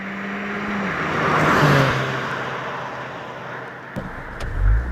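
Ford Fiesta ST manual hatchback with a six-speed gearbox driving on a road, a steady engine hum and tyre roar with a brief rise as it accelerates, close and continuous with no talking.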